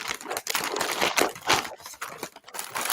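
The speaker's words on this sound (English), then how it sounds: "Everybody crinkle and crumple." A sweet potato cracker snack wrapper is crinkled and crumpled up close, with loud irregular bursts of crackling plastic rising and falling over a few seconds.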